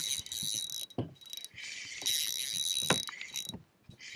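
A fishing reel's drag clicks and ratchets in quick bursts as a hooked smallmouth bass pulls line beside a boat, close and fairly quiet, with no talking.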